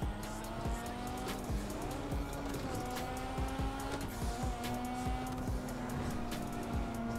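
A car skids and squeals its tires while drifting in the FiveM driving video game, with sustained engine drone, rising and falling squeals and scattered clicks, continuous and close.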